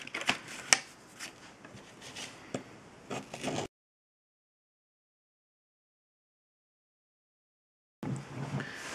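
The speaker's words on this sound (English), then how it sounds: "you can start taking these papers off" Paper being peeled off cut letters: soft crinkly rustles and small sharp tearing ticks for a few seconds, then silence before the rustling resumes briefly, close and quiet.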